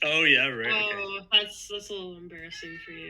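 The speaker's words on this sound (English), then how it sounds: "No, that's my cat." A pet cat meows in drawn-out, wavering cries over the first second or so, then gives a few shorter calls, all mixed in with people talking close by.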